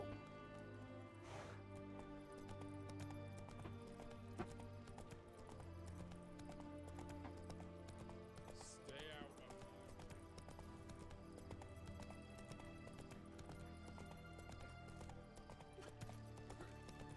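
Roach, Geralt's horse in The Witcher 3: Wild Hunt, gallops in a continuous low patter of hoofbeats under music and game ambience. A short whinny comes partway through, and everything stays fairly faint.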